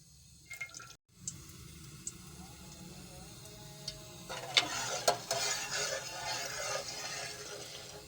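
Ghee heating in a pot on a stove, giving a faint, quiet sizzle with light crackling pops that grow busier toward the end.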